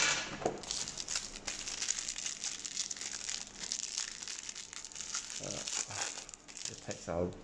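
Foil wrappers on Magic: The Gathering Strixhaven prerelease packs crinkle and crumple as they are torn open, a close, continuous rustling with sharper crackles near the start and end and a voice faintly present.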